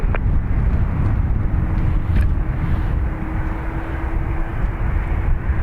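A steady low engine hum fills the background, like a propeller aircraft running at a distance at Dublin Airport, with a faint tonal drone and slight wind rumble.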